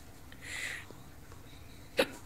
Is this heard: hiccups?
yes